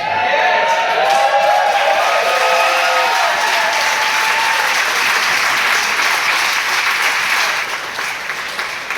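An audience claps and cheers for a comedian leaving the stage, a dense, loud burst of applause that holds steady for several seconds and then begins to thin out toward the end.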